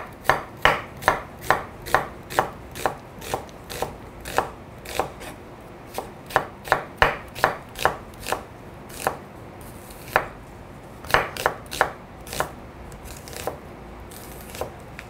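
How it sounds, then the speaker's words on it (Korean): An onion is thinly sliced with a knife on a cutting board, a long run of crisp, evenly paced chopping taps, close and clear, with a brief burst of quicker cuts near the end. "양파 같은 경우에는 얇게 반으로 채 썰어 주시면 좋으실 것 같고요."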